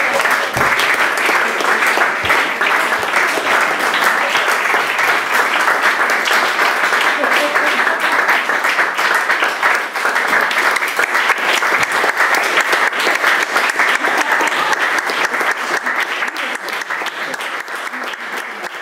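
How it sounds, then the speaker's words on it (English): An audience gives a sustained round of applause at a screening event, many hands clapping loud and close in a dense, unbroken wash that tapers slightly toward the end, with a voice briefly heard over it. "please give him also a round of applause"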